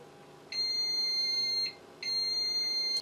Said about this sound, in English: Unscrew corresponding nut under platform clockwise until hearing a steady beep.